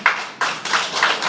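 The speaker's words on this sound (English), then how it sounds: "Please hold your applause so we can efficiently get through these comments" Audience applause at a town advisory board meeting, heard as several bursts of hand clapping that swell and fade in quick succession and fill the room briefly, with no voices over them.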